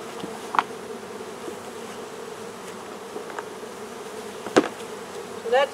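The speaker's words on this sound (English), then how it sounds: "That's just full of bees." A steady, even hum of honey bees buzzing close by in an opened hive during a cut-out, with a few brief clicks and knocks and one louder rising buzz near the end.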